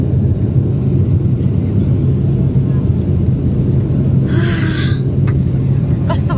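Inside a passenger airplane touching down in bad weather, a heavy low engine rumble and cabin roar hold steady, with brief chimes and clicks near the end.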